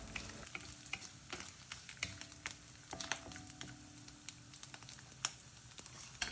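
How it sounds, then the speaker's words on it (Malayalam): Coconut pieces fry in a pan for mushroom curry with a soft, low sizzle, punctuated by irregular scraping clicks and taps as they are stirred, fairly quiet and free of talk. "തേങ്ങാക്കൊത്ത് കുറച്ച് മതി, അതൊന്ന് ഇട്ട് കൊടുത്ത് നന്നായിട്ട് ഇളക്കി അതൊന്ന് മൂപ്പിച്ചെടുക്കാം"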